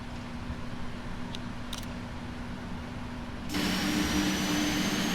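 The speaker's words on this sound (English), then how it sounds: "Start the left engine. Starting number 1." Simulated Boeing 777-300ER jet engine spooling up in Flight Simulator X: a steady low mechanical hum with a faint tone, then at about 3.5 seconds a louder broadband roar and rising high whine set in and hold.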